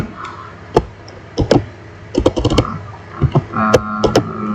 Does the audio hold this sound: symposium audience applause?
no